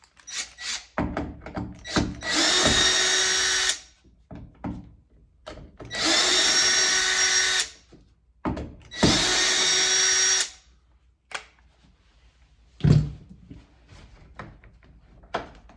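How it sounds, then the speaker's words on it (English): A power drill backs screws out of a door hinge in three long whirring bursts, with sharp knocks and taps between them, close and loud in an otherwise quiet room. "we'll pop this hinge loose right here, removing the screws"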